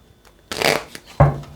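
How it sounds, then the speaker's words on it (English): Tarot cards riffled and shuffled by hand in two brisk bursts, each a dense papery flutter ending in a soft tap, close and clear with no talk. "Let's give this 2 more shuffles here."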